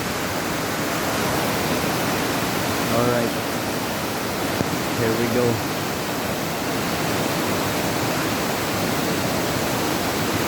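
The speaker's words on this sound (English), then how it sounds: "flowing water" Water pours over Hamogaway Falls in Bayugan City, Agusan del Sur, a steady, loud, broadband rush that fills the whole clip, with a voice speaking briefly over it.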